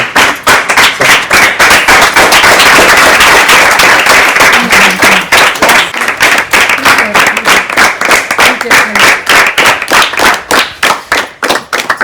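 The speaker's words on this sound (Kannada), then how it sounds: "ಸ್ವಲ್ಪ ದೂರ ಚಪ್ಪಾಳೆ." Audience at a school National Science Day event claps loudly and continuously, a dense burst of applause that thins into scattered claps toward the end.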